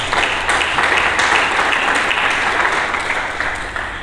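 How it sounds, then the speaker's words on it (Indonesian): A church congregation claps together for Jesus during a sermon, a loud, full, continuous round of applause that holds steady from start to finish. "Berikan tepuk tangan bagi Yesus."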